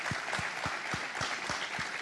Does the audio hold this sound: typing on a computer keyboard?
no